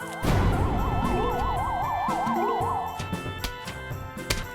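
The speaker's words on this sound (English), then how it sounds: "I'm pretty sure that's meant to be a cop siren" A warbling cop siren effect from a zombie video game wails loudly for a few seconds. Game crashes and impacts sound alongside and after it.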